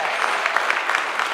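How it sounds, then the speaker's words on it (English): A church congregation breaks into dense, loud clapping, a fast continuous patter that fills the short moment, with a voice faintly beneath. "Let's clap like we really mean it."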